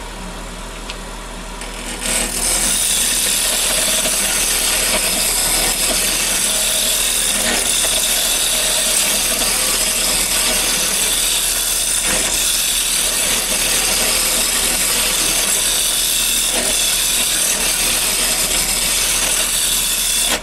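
Wood spinning on a lathe and being turned with a roughing gouge, a steady close mechanical hum with a faint scraping texture running continuously after a brief quieter start.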